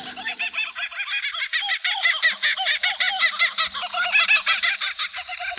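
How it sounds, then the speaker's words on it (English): Dense chorus of high, chattering whistling duck calls, many overlapping whistles and squeaks continuing steadily and fairly close in Australian bushland, with no pauses. "A family of whistling ducks."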